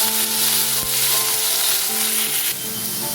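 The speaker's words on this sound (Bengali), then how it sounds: "আলুটা কিছুটা ভাজা হয়ে এলে দিয়ে দিচ্ছি কারি পাতা" Curry leaves sizzle loudly in hot oil with partly fried potatoes, a steady dense crackle running throughout with a brief sharp pop near the start.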